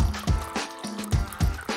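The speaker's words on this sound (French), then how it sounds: "tu peux verser ta boisson préférée." Drink poured through a tap set into a hollowed-out fruit, a steady liquid trickle with a few gurgling fill sounds, close and moderately loud.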